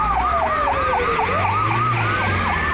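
A loud, close ambulance siren wails in rapid repeating yelps, joined partway through by a second, slower sweeping tone, over the low rumble of traffic.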